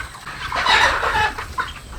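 Chickens cluck loudly and close by in a brief burst, several birds overlapping.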